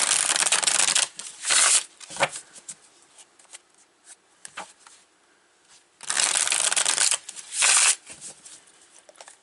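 A deck of tarot cards is shuffled in two loud bursts of riffling and shuffling, separated by quieter card handling and soft taps, with no speech.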